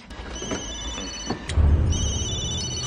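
Telephone rings after the last number is redialed in the horror film Scream 3. The ring rises clearly over a low film score and background noise.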